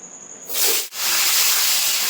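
Pieces of papaya hit hot oil for a Bengali fish curry, setting off a sudden loud, broad hiss that dips for an instant and then roars on steadily and close.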